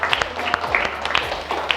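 Classroom applause during a teacher-training lesson, scattered clapping from students with distinct sharp claps over a low hum, uneven and moderately close, with faint voices underneath.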